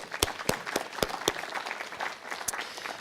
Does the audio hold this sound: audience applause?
yes